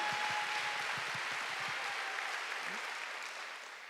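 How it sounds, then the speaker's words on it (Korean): Applause from a church congregation during a Sunday worship service, a broad steady wash of clapping that holds for the whole stretch and tapers slightly at the end, with a few low thumps early on. "빨리 박수."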